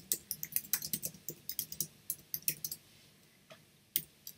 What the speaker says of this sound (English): if I was typing here